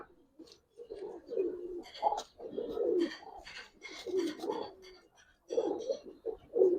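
Giribaz pigeons coo close by in soft, throaty rolling calls, several overlapping phrases repeating with brief pauses, with no voices over them.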